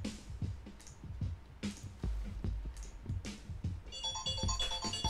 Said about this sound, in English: Oh, that's my phone ringing.